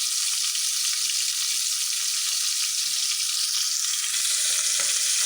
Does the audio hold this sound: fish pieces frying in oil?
yes